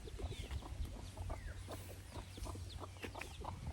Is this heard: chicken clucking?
yes